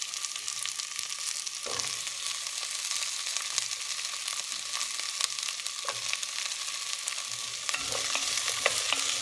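Onions and asparagus sizzling steadily in a pan over medium heat, a constant soft frying hiss broken by occasional clinks and scrapes of stirring.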